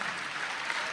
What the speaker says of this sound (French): Que l'on applaudit.